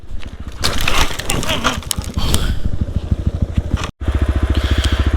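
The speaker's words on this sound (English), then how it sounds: "Okay, so I had a bad crash." A dirt bike crashes on a trail ride in Jintang, China, with loud crunching impacts and scraping up close, then after a brief cutout the engine idles and throbs with a rapid, steady pulse.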